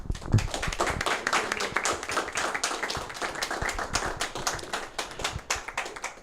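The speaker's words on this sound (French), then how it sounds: "Je pense qu'on peut l'applaudir encore une fois quand même." Audience applause after a talk at a retro gaming convention, dense and sustained clapping from a nearby crowd filling the whole stretch at steady volume.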